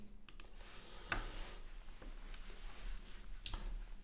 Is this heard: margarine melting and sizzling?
no